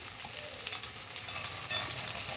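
Food frying in a pan during home cooking, a steady crackling sizzle with occasional stirring scrapes, close and fairly quiet with no talk.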